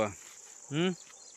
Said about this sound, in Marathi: आणि रातकिडे आता वाजलेले आहेत